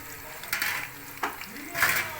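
Grated banana shreds frying in a shallow layer of oil, a soft close crackle and sizzle broken by a few spoon stirs and scrapes against the pan, brief and fairly quiet.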